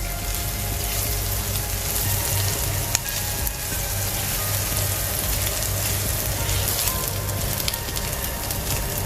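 Onions with white sesame seeds and broken dried red chilies fry in hot oil, a continuous close sizzle with crackles and occasional stirring scrapes.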